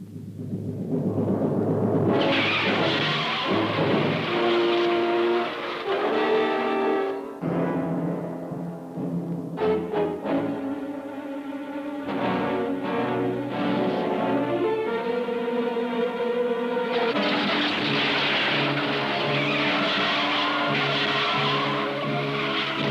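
Cars from 1960s collision experiments speed and skid at around 30 to 40 miles per hour, with loud sustained tire squeal and engine roar running almost continuously, briefly dipping before rising again.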